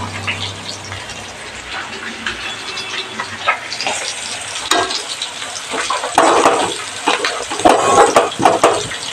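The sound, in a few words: green chillies and spices frying in a pan for potato curry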